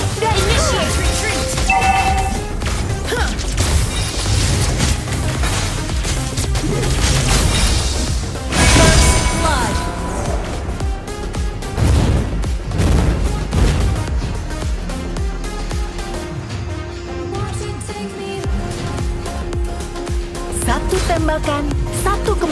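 Mobile Legends gameplay with the hero Karrie firing skill shots amid explosions, a dense rapid stream of booms, crashes, pops and impact hits layered over game music, with a voice speaking.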